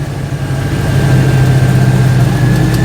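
An Invacar engine drones loudly and steadily from close by, with a constant low rumble and a faint whine that swells slightly as the run goes on, and no voices.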